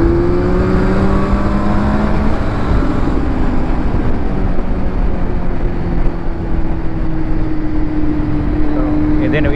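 A motorcycle's boxer engine idles and runs close by, a steady droning hum with slowly shifting pitch, with someone talking over it.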